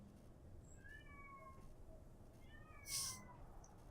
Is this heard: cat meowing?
yes